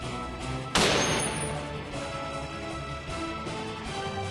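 A Barrett .50 BMG rifle fires one loud, sharp report at a titanium target, and the blast decays slowly into a lingering rumble.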